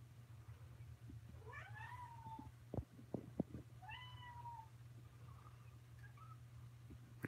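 A tabby kitten indoors gives two faint rising meows a second or so apart, close but quiet, with a few soft knocks and taps between them and a low steady hum underneath.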